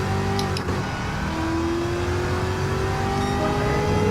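A Chevrolet C7 Corvette ZR1 on a track lap, its engine droning steadily at speed with a slowly rising pitch, loud and close with no talking.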